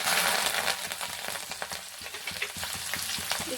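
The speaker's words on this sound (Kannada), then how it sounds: "ಇವಾಗ ಫ್ರೈ ಮಾಡ್ತೀವಿ ನೋಡಿ" Cumin, garlic and coriander leaves frying in a pan, a dense continuous sizzle with crackles and stirring scrapes, close and fairly loud throughout.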